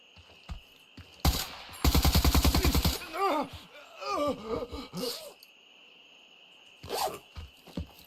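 An AK rifle in the game Incursion Red River fires one fast burst of about a dozen rounds, loud and close, followed by ringing echoes, with a few scattered shots later.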